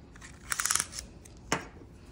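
A tape measure is pulled out while measuring yarn for a Tunisian crochet pumpkin, a quick run of close ratcheting clicks followed a moment later by a single sharper snap, quiet and with no talking.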